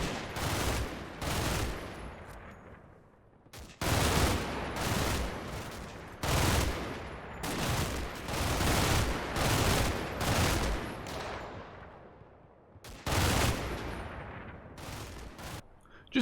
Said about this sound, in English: that comes obviously with that 1200 RPM you can get on the MG42